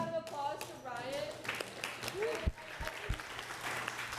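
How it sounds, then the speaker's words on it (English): Applause from a lecture-hall audience at a decentralized finance class, moderate and somewhat distant clapping mixed with talking and a few louder individual claps. "Give a big round of applause to Ryan."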